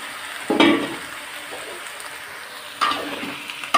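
Vegetables for a prawn curry are stirred in a hot pan, with two bursts of sizzling and scraping separated by a quieter frying hiss.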